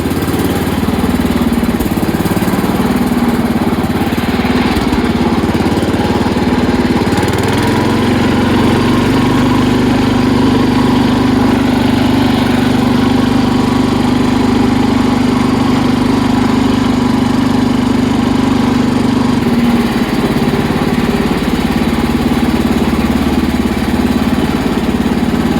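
The engine of a 1969 Sears Suburban 12 garden tractor idles close by, loud and steady, with a constant chugging hum that wavers only slightly in pitch throughout.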